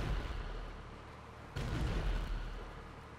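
A proximity mine detonates in a video game, a sudden low boom at mid-clip that jumps above a rumbling background and lingers as a heavy, distant-sounding roar.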